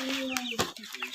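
Native chickens on a farm, with a brief burst of close clucking and short squawks from several birds overlapping.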